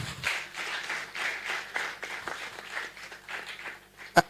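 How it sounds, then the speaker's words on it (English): Scattered clapping from a small audience at the SPE Africa student congress, steady and fairly soft, with a few sharp, louder claps near the end. "Please, let's clap for them."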